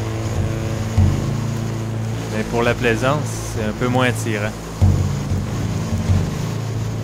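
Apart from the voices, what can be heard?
waves and wind at sea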